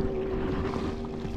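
A motorboat passes near a kayak in a mangrove fishing spot, heard as a steady, droning engine hum with wind and water noise, brief and moderately close.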